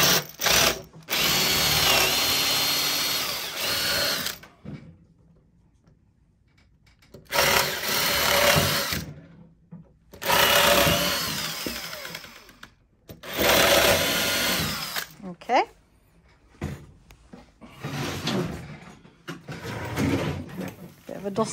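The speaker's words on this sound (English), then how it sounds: "We've got our 8mm drill because that's the size of the bolts we're using." An electric drill with an 8mm bit bores holes in repeated bursts of a few seconds each, loud and close, separated by short quiet gaps, with some talk between runs.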